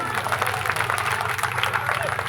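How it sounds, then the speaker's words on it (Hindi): A crowd at an Ambedkar Jayanti gathering claps for the organizers: a brief, steady burst of applause with a voice or low hum running beneath it. "आयोजन समिति के लिए और भाई मंजीत मेहरा जी के जोरदार तालियों।"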